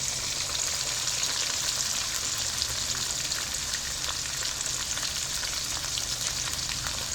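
Chicken frying in hot oil: a steady, close sizzle and crackle with no pauses, running evenly from start to finish.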